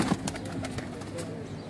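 Soft coos from domestic pigeons murmur close by over a faint outdoor background, low and rounded, repeating irregularly.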